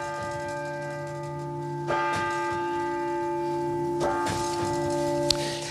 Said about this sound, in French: Et ensuite, on va pouvoir donner l'heure sur la grosse cloche.